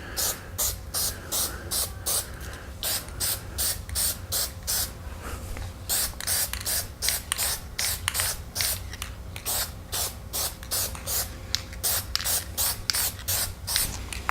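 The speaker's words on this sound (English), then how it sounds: "So we'll spray these out. It'll be just a light dusting." A spray can hisses in quick short bursts, over and over in a steady rhythm, close up, laying a light dusting coat on model aircraft parts, with faint rubbing sounds between.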